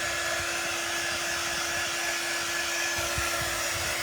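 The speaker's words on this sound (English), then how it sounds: "So this heat tool doesn't really, it blows warm air, but it's not a real hot air." A heat tool blows warm air to dry a craft transfer, giving a steady, continuous whoosh with a low motor hum throughout, close and even in level, with no voices.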